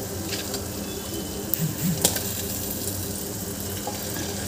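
Chopped tomatoes fry softly in a pan while masale bhat, a spiced green pea rice, is cooked, giving a faint, even sizzle with a few brief clinks of stirring.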